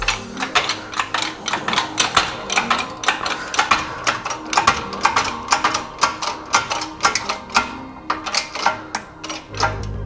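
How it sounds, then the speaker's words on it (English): A Harbor Freight shop press forces a mechanical seal into a Yamaha YFZ450R water pump housing, giving a dense run of sharp clicking and ratcheting taps close up, with uneven rhythm throughout and no talking. "we're just going to press it in with our trusty Harbor Freight press"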